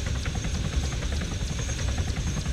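Military helicopters in the game Arma 3 produce a steady rotor roar with a fast, rhythmic thudding chop over a broad hiss, loud and continuous without talking.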